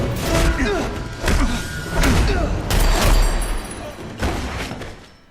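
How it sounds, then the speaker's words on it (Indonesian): Gunshots in an action film come as several heavy thumping bangs spread over a few seconds, mixed into loud film sound with a narrator's voice talking over them. "Di sini, Lynch berhasil menembak lengan Hannibal."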